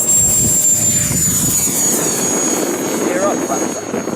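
An L-39 Albatros model jet with an 80mm electric ducted fan takes off, a loud steady high-pitched whine with broadband rush that holds strong throughout, the fan tone sliding slightly as it climbs away; a voice talks briefly.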